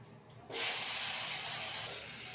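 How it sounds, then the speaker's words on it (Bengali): Potatoes hit hot oil in a wok and a loud, steady frying hiss starts suddenly, easing slightly near the end, with no talking. "কড়াইতে তেল দিয়ে দিলাম, এর মধ্যে আলু ভেজে নেব।"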